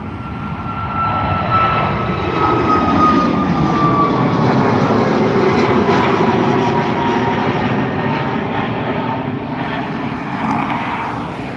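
Ryanair Boeing 737 MAX 8 operated by Malta Air taking off at Dublin Airport, a loud, sustained jet engine roar with a whining tone that holds steady and slowly fades toward the end.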